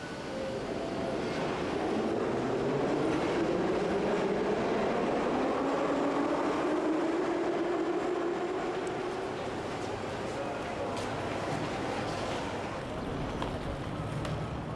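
A Moscow subway train rumbles along, a loud continuous roar with a rising and falling whine as it moves through the tunnel.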